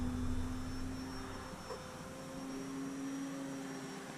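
An E-flite Valiant RC model airplane flies at a distance, its electric motor giving a steady, faint whine with a low drone underneath, unbroken for several seconds as it lines up for a landing approach.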